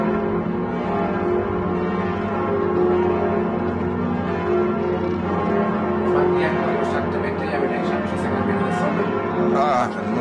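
Church bells swinging in a belfry ring continuously with a dense, reverberant clang, loud and close, with swinging strokes overlapping into a sustained wash of tones.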